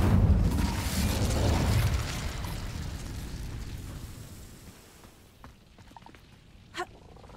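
An Incendio fire spell from Hogwarts Legacy bursts with a loud whooshing blast that fades over several seconds into a low rumble, followed by a few faint clicks and a small pop.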